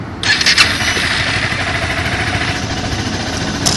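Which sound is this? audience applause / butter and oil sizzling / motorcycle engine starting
motorcycle engine starting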